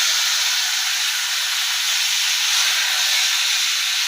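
Hilsa fish head tossed with cumin, chilli and taro greens into hot oil, hissing loudly and steadily throughout, a close bright sizzle with no talking.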